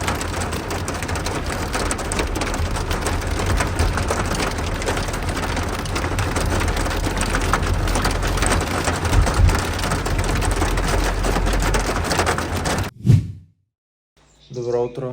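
Rain pours down in a steady, dense hiss that fills most of the span, then cuts off abruptly near the end, followed by a brief thump and a person starting to talk.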